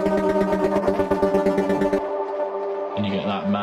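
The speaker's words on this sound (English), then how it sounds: "And you get that mad delay off it." A bright synth chord rings out with heavy echoing delay and reverb, its repeats trailing off before a new note enters.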